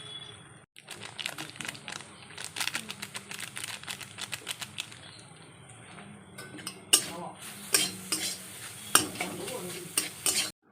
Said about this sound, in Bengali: ডিমের ভুজিয়া বানাচ্ছি